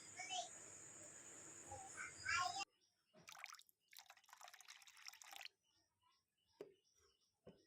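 Cold water poured into homemade mango Frooti drink, a steady splashing stream for a couple of seconds, then softer trickles and scattered drips in a quiet room with no talk.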